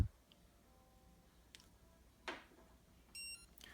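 A single short electronic beep from a Garmin Sport Pro PT-6 dog training receiver as it powers off, heard alone in a quiet room with a few faint ticks before it.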